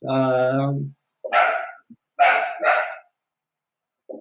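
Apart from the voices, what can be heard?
dog barking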